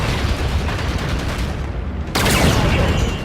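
Dense, continuous gunfire in the Infinite Warfare video game, a loud, steady barrage of overlapping shots and blasts with a brief dip before it surges again.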